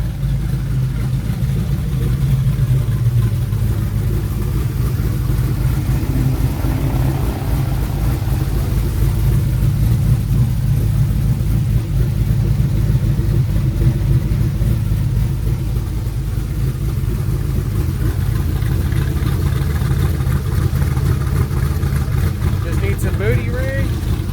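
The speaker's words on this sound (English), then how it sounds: "Got the truck running." A Hemi-powered truck engine with a performance cam runs steadily throughout, a loud low rumble with a slightly lumpy idle, while people talk now and then over it.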